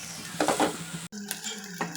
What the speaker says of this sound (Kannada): ಸಾಸಿವೆ, ಈರುಳ್ಳಿ ಹಾಕ್ಕೊಂಡು ಚೆನ್ನಾಗಿ ಫ್ರೈ ಮಾಡ್ಕೊಳ್ಳೋಣ.